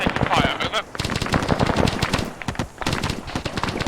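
Sustained automatic gunfire in the military shooter ArmA 3, rapid bursts cracking continuously and loudly through the whole stretch, with a brief lull near the middle and faint radio-style voices mixed in during a platoon attack.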